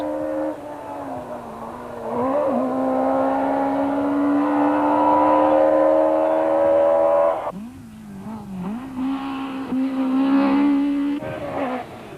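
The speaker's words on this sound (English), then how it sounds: "Hannes Grobler's badly handling Sentra handles them almost like a motocross competitor, becoming almost airborne at times" Hannes Grobler's Nissan Sentra rally car, handling badly, revs hard over jumps on a 1992 Swartland Rally stage, the engine note climbing steadily, then dropping and surging again as it lands and accelerates; loud and close.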